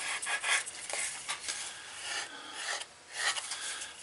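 220-grit 3M wet and dry sandpaper rubbed over leather for a card wallet, giving close, raspy scratching strokes in uneven bursts with short pauses between them.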